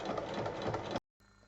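Sewing machine stitching a fabric seam, a close, steady mechanical whir with rapid needle rhythm for about a second, then it stops abruptly, leaving a brief silence and then a faint hum.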